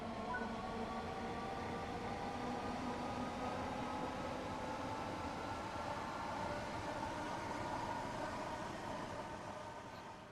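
British Rail Class 465 electric multiple unit in Train Sim World 3 passing by, a steady continuous rumble and hum of wheels and traction motors holding level throughout, fading slightly at the end.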